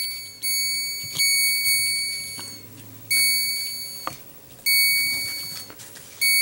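A small bell for a cowbell project rings in about six separate strikes, each a bright, clear metallic tone that decays slowly, spaced irregularly, with no talking.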